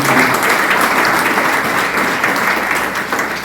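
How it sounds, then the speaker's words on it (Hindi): Loud, sustained applause fills a company sales meeting hall as a large audience claps steadily for a store owner, dense and unbroken before easing slightly. "मैं सर के लिए एक बार जोरदार तालियां।"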